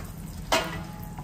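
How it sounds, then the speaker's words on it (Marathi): Chopped cashews and almonds drop into hot homemade ghee and start a soft, steady sizzle, with one brief louder crackle as they hit the fat, fairly quiet and close. "त्याच्यामध्ये मी हे कटिंग केलेले आहेत ना काजू बदाम ते टाकणार आहे."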